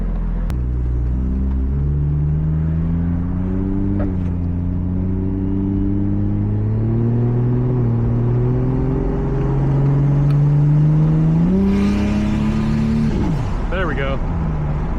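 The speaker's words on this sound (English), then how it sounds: "Finally heard the wastegate dump for them." A Toyota Supra MKIV with a GE engine rumbles steadily up close as it revs and eases off, ending in a brief hissing burst from the wastegate dump.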